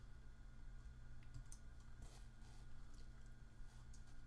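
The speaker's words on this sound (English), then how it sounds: "I'll click anywhere inside my document and I'll type in iPhone" Quiet, steady keyboard typing on a computer while text is entered in an editing program, with soft continuous clicks and a few slightly sharper keystrokes over a low background hum, no voices.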